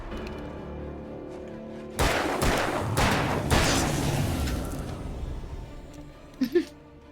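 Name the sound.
shotgun firing in the video game Alan Wake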